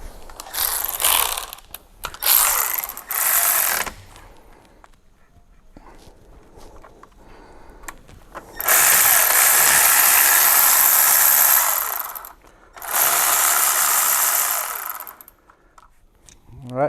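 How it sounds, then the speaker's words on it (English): A ratchet working the two bolts on an ABS wheel speed sensor of a Nissan Navara, bursts of fast mechanical clicking close by, starting and stopping with quieter gaps between runs. "just take the two bolts off and this sensor should come out"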